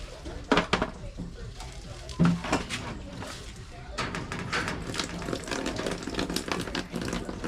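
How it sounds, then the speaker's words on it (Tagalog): Dishes and utensils are washed outdoors with irregular clinks and clatters of plates and cutlery, plus splashes of water, fairly close, while a person talks intermittently. "Para mahugas ng pinggan."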